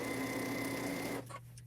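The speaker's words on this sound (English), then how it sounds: "I like to start 2 or 3 stitches above my line, and I like to sew 2 or 3 stitches beyond my line." Sewing machine stitching along a line while piecing paper-pieced quilt units, a fast, steady mechanical whir that stops abruptly, followed by a few faint clicks.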